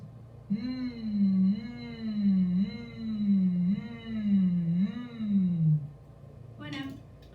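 A voice hums a wavering, nasal drone in repeated swells, imitating a buzzing gnat, loud and close for several seconds before stopping.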